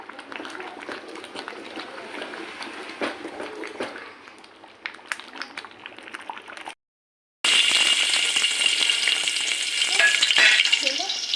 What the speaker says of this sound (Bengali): তেল দিয়ে পেঁয়াজ দিয়ে দিলাম রসুন পেঁয়াজ দিয়ে দিলাম